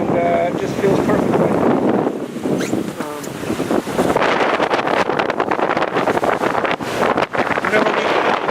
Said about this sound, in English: Enjoying the afternoon winds.